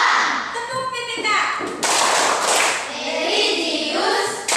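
Schoolchildren in a classroom clap a rhythmic patterned clap, sharp bursts of hand claps in groups alternating with chanted children's voices.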